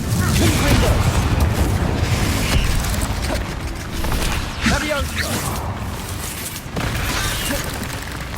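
Hogwarts Legacy combat in which the Confringo fire spell explodes amid other spellfire: continuous heavy booming and crackling blasts with rumbling low end, loud and dense throughout, with shouted voices under the din.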